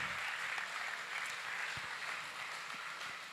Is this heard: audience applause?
yes